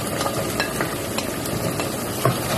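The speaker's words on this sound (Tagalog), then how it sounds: "And haluin lang po natin ulit." Vegetables (carrots and bell pepper) stirred in a pot of simmering chicken afritada, a steady broadband sizzle with repeated scraping strokes of the spoon, close and continuous throughout.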